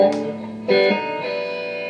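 Guitar notes ring through a repaired Gibson GA-55 RVT tube amp with its reverb on, two plucked chords sustaining and trailing into a soft wash of echo, close and moderately loud.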